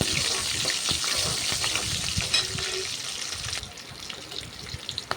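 Green chillies fry in hot oil in a pan for poori masala, giving off a continuous loud sizzle and crackle that softens slightly near the end.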